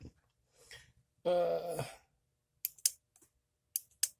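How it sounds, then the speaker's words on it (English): A few sharp, quiet clicks from a relay in an arcade cabinet setup come in small pairs after a brief murmur and a breathy vocal sound, with near silence between them. "you'd connect power to one pin, and then the other pin, and then you should hear a clicking noise"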